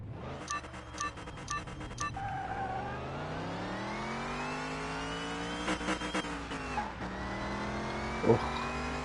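Race car in a PS5 racing game launching from a handbrake start, with a steady held engine drone that rises in pitch as it revs. Some clicky menu beeps come first and a short sharp sound comes near the end, with no talking.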